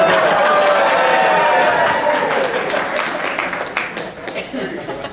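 A crowd claps and cheers loudly at an athletic hall of fame induction, the applause gradually thinning out with a few voices and laughs mixed in.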